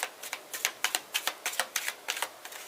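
Tarot cards riffled and shuffled by hand during a reading, a run of about a dozen crisp, evenly spaced papery flicks, close and fairly quiet, with no talk.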